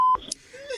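Telephone keypad tones as a call is dialed during a comedy show: a short pair of DTMF beeps followed by faint tonal sounds.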